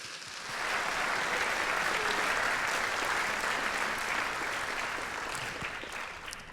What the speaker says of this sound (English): Let's give one more round of applause to that middle school percussion ensemble